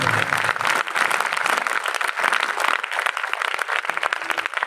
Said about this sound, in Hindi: अगर आए हैं तो जोरदार तालियां बजाएंगे।